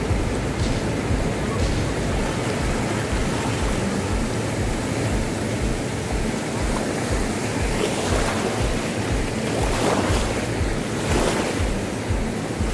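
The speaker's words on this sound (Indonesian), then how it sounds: "Gelombangnya lagi besar dan bahaya banget ya." Large waves crash and roar at Legon Pari beach in Sawarna, a loud, continuous ocean surf with wind noise buffeting the microphone and heavier breaking surges rising near the end.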